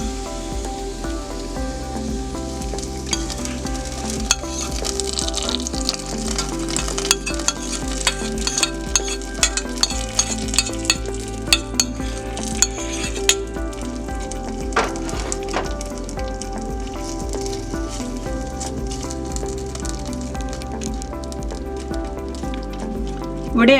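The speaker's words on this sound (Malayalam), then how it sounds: "ഇനി നമ്മൾ വേവിച്ച് വെച്ചിരിക്കുന്ന ആ പാവയ്ക്ക കറിയിലേക്ക് ഇത് ഞാൻ ഒഴിച്ചു കൊടുക്കുന്നു" Hot tempering poured into cooked bitter gourd curry sizzles and crackles steadily at close range, a dense continuous frying hiss with scattered pops and stirring clatter and no talking.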